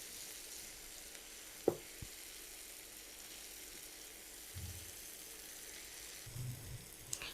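Spices frying in oil in a pan for an egg dish, a steady quiet sizzle with a few soft clinks and stirring knocks, no voices.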